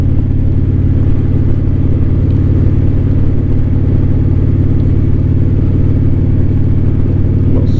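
An Indian Challenger motorcycle engine runs steadily throughout a New Year's Day ride, its low, loud rumble sustained with no pauses and no talk.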